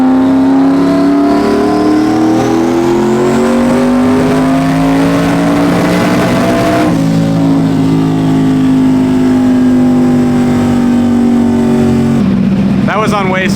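A turbocharged car running about 21 psi of boost accelerates hard, its engine note climbing steadily through the revs before a shift, then pulling again, loud and close with a brief burst of turbo noise near the end.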